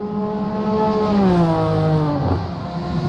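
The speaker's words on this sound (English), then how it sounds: "And there you see beautiful sounds of these cars." Vintage race car on the Sears Point circuit in California during an IMSA vintage championship session, its engine note climbing and falling as it sweeps past close by, loud and alone without talk.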